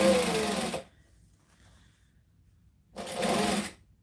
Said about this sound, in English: I'm just literally going to stick this under and chain stitch the zipper tape